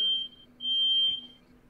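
A smoke alarm set off by a flatmate cooking bacon gives piercing electronic beeps, one long tone, a pause, then another sustained tone, fairly close indoors with no one speaking.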